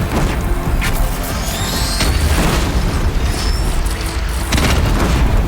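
Explosive booms from a Deathbringer machine firing in Horizon Zero Dawn, a loud, dense barrage of blasts and mechanical clatter running continuously with sharper bursts near the start and end.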